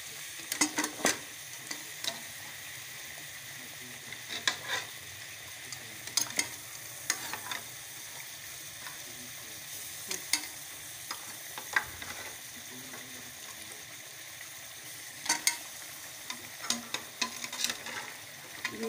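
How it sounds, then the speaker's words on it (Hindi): Meat bones being stirred and fried in masala, a constant sizzle broken by frequent sharp clacks and scrapes of a spoon against the pot, close and unaccompanied by speech. "अब इसके अंदर ये डालेंगे हम जो हड्डियाँ वगैरह हैं, इसको भून लेंगे थोड़ा सा"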